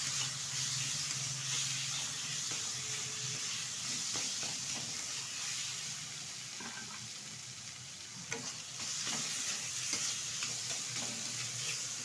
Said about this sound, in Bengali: এখন দিয়ে দেবো সিদ্ধ করে রাখা কাতলা মাছ। ভালোভাবে মিশিয়ে নেব।